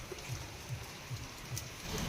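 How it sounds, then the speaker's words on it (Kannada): Steady hiss of rain falling, fairly soft and continuous, with faint low thumps recurring every half second or so beneath it. "ಮಳೆ ಬರತೈತಿ"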